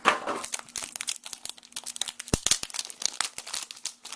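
Plastic packaging around a Flip Video power adapter crinkles and crunches in steady handling, with dense irregular rustles and one sharp snap partway through, close and fairly loud.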